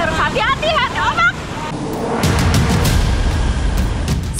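Ocean waves break on a beach in a loud, broad wash of surf that builds midway, following a short stretch of speech at the start.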